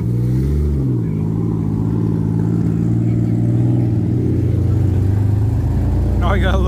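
Nissan 300ZX sports cars pull away from a June car show, engines rumbling and revving nearby beneath steady crowd chatter and people talking.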